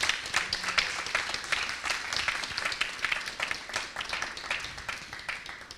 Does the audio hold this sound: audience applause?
yes